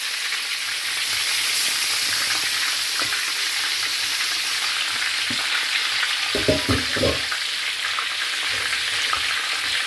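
Fish fries in hot oil with a loud, continuous hiss and crackle. A few dull clanks of a utensil land near the middle and the sizzle runs unbroken to the end.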